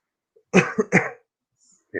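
A person coughs after smoking a marijuana joint, a quick burst of three harsh hacks, close and loud, followed by a brief vocal sound.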